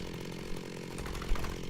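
A tree is chopped down in the video game Minecraft with the Feed the Beast modpack, heard as a short buzzing, rattling mechanical drone like a small saw, steady and close.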